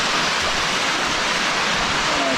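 Tiered waterfalls on Spirit Creek in the Ozark Highlands, a dense, steady roar of falling water, close and continuous.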